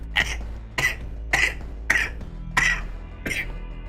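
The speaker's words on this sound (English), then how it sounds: "That started as like a gag cough and then turned into a real cough at the end" A person gives several short forced coughs, about six bursts in steady rhythm, starting as a fake gag cough and turning into a genuine cough by the end, close and fairly loud.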